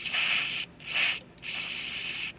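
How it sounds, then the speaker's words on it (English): Three bursts of aerosol lubricant spray onto the choke spring of a Cub Cadet mower's Kawasaki engine hiss, close and loud, with brief pauses between them. "we're just going to go in here and spray the area where the spring is"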